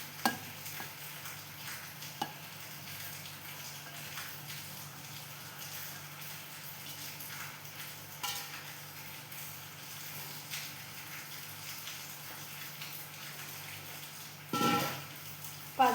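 A spoon stirs cooked, salted green gram into a jaggery and cardamom mixture for sukhiyan, a quiet continuous scraping with faint sizzle, soft taps and an occasional louder clatter.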